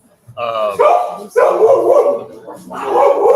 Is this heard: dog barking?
yes